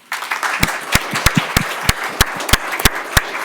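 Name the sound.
audience applause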